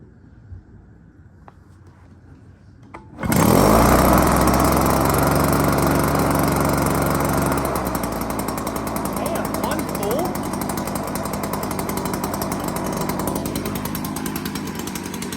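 An old Echo string trimmer with a 58.2 cc two-stroke engine starts on the first pull, bursting from near-quiet into a loud, steady buzzing roar that settles slightly lower and holds close by, with faint speech in the background.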